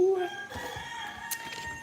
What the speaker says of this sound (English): I just live near chickens.